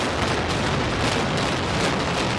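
Building demolition blasts render as a dense, steady roar of rumbling noise, loud and unbroken, like heavy collapse debris and explosions blending into one continuous wash without distinct individual bangs.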